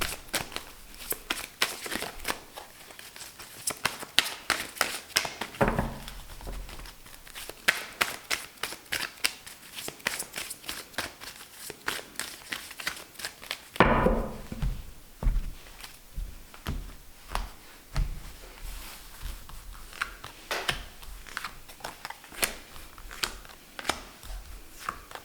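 A deck of tarot cards shuffled for a reading, giving a close, steady stream of riffling, flicking and papery slaps, with a couple of louder sweeping shuffles partway through.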